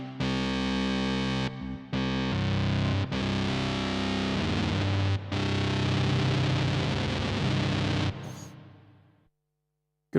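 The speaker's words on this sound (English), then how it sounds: "That is a lot of distortion." Heavily distorted Roland JV-1080 synthesizer chords grind out in several sustained blocks with short breaks, loud and saturated, then the last chord fades to silence; no speech.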